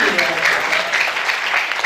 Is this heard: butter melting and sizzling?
no